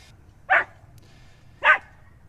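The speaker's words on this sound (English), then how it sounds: "You guys can hear Soupsick barking in the background" A dog barks twice, about a second apart, short single woofs at moderate distance in an otherwise quiet room.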